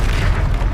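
A Confringo blasting spell explodes in Hogwarts Legacy, a single loud, booming blast that fills the whole short moment at close range.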